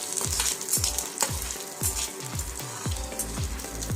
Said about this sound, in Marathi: यानंतर आपण यामध्ये कढीपत्ता घालून घेऊ आणि छान परतवून घेऊ